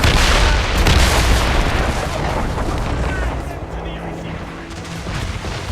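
Cannons fire from warships in an Assassin's Creed Rogue naval battle, with heavy booming blasts and a rolling rumble that fades over several seconds.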